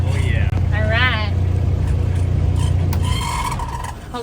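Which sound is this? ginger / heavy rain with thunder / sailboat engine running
sailboat engine running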